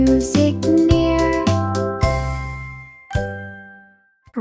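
Bright bell chimes ring out in a quick run of struck tones, each decaying with a shimmering tail, then a final separate strike near the end, close and clear with no voices, in a whimsical nursery-rhyme setting.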